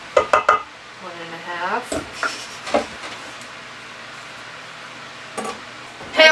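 Cookie dough is mixed in a bowl with clinking utensil scrapes and taps in irregular bursts, fairly close, with a few quiet spoken words between the clatters.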